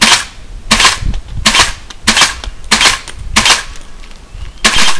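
An airsoft M4 EBB rifle firing, about eight sharp, loud cracks in an uneven rhythm, each shot clear and close, with no talking.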